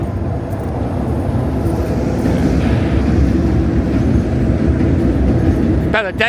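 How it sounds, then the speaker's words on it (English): A train passes nearby with a steady, loud rumble and rolling rail noise that holds throughout, ending with a brief sharper mechanical squeal. "Oh, got the train going by."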